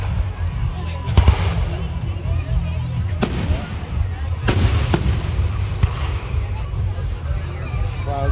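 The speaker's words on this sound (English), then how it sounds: "I think we're actually finally going to see fireworks now." Fourth of July fireworks going off outdoors in a few sharp bursts among steady crowd noise, with people chatting throughout.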